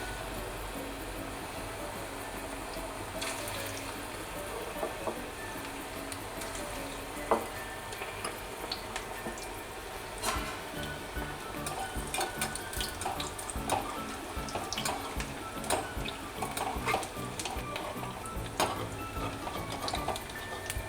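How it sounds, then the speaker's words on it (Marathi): Moong bhaji frying in hot oil on low gas, a steady close sizzle and bubbling with scattered crackles and occasional clinks of a stirring utensil, no talking. "भजी तळून घेऊ सुरुवातीला तेल तापलेलं ठेवायचं नंतर गॅस एकदम बारीक करून टाकायचा"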